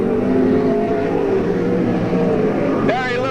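Race cars pass on a circuit track at the end of a race, engines roaring loudly and continuously, with a revving pitch sweep near the end as a car goes by.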